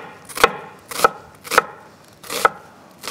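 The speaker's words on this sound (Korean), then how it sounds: "양파를 이제 채를 쓰도록 하겠습니다." Knife slicing an onion into thin strips on a cutting board, four or five crisp, evenly spaced chops at close range with nothing else heard.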